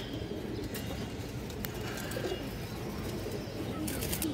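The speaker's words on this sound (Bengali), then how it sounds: "এই দেখেন একবারে পুরনো অরিজিনাল র কবুতর দর্শক" Pigeons of an old original line, kept with eggs and chicks in a loft, coo in low, soft, continuous murmurs close by, with a few faint chirps over a steady background hum.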